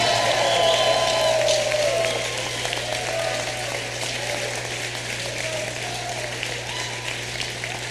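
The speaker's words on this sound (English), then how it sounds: "Let's give him a round of applause for getting that done." A campaign speech audience claps in a steady, dense wash of applause that eases slightly in volume but keeps going, under a faint constant hum, with no voice over it.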